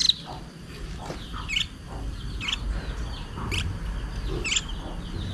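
A pet bird being hand-fed gives short, high, faint chirps repeated roughly once a second over a low background rumble.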